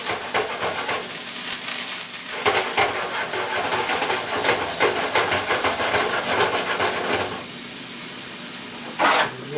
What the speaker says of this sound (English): Let it come up to a boil